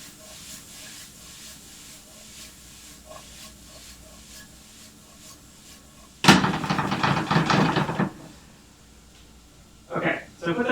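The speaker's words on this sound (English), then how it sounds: "all my spices, all my veggies, they're all sauteing up very nicely" Spices and vegetables sauteing in a pan give a low steady sizzle, then a loud burst of hissing and rattling as the pan is shaken, with a second short burst near the end; a person talks over it.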